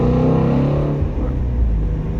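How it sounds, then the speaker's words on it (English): Sports car engine revving hard from inside the cabin during a drive, either a 2021 Toyota Supra A91 or a 2018 Shelby GT350, with a loud, continuous rumbling roar and rising harmonic tones that settle into a deep growl. "listen to that engine"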